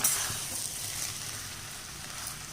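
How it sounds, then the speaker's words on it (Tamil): Onions and tamarind sauté in a pan, giving a soft, steady sizzle and hiss close by with only faint stirring and no voices. "இப்போ பாருங்கள், நல்லா வதங்கி வந்துச்சு வெங்காயம்."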